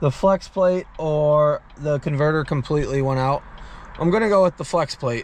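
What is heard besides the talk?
No distinct noise like a dog, phone or traffic.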